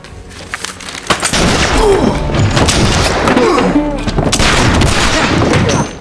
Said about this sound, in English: The man who got shot was named Frank, though he had no idea yet whom he had provoked